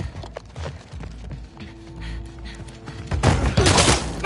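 Gunfire in The Last of Us Part II, a few sharp reports scattered through tense game noise, ending in a louder burst of shots near the close.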